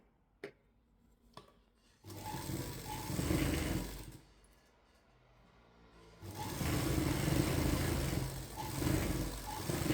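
An electric sewing machine stitching a folded cotton katori blouse seam runs in two steady, close, mechanical whirring bursts, separated by a pause, with a few light clicks before the first burst.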